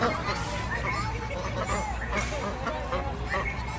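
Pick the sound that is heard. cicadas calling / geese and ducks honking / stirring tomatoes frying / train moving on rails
geese and ducks honking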